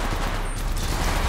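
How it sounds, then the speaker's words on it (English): Dense, loud gunfire crackles from the Apex Legends training course, a sustained roar of shots over the whole brief moment with no voice over it. "Contact. I'm taking the shot."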